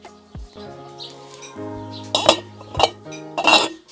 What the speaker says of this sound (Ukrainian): І беру другу баночку і накладаю так само, як і ту попередню.